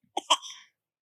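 A young child gives a single short, sharp sneeze, close and clear, followed by a soft exhaled tail in a quiet room.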